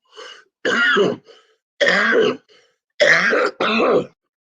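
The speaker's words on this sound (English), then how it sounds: "no idea where this cough has come from." Several harsh coughs and throat clearings in quick bursts, close and loud, separated by short silences.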